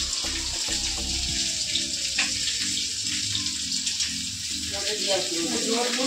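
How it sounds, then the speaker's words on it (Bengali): Water pours steadily from a tap in a home kitchen during cooking, a continuous bright splashing rush that fills the whole moment, with a falling tone and a few clinks mixed in. "জল পড়ে যাচ্ছে"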